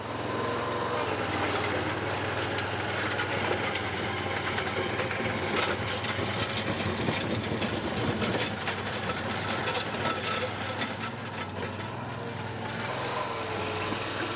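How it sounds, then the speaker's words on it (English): A Struck MH4900 stick-steer mini dozer engine running, a steady close drone with a constant low hum and clattering mechanical noise, continuous and unbroken. "He's running both sticks of steering. It's a stick steer."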